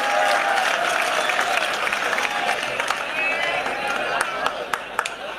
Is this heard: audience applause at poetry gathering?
yes